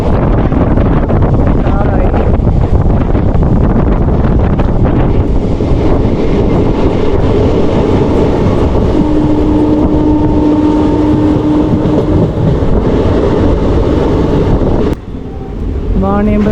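Electric train running on the Nilambur route in Kerala as it nears Vaniyambalam station: a loud, steady rumble of rails and carriage with heavy wind buffeting the microphone, continuing for the whole stretch before a brief dip near the end.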